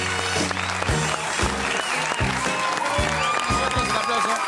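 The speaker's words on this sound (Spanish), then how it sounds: "Un aplauso." Audience applause on a talk show set, steady clapping running through the whole stretch under loud music with heavy rhythmic low beats, the clapping partly masked by the band.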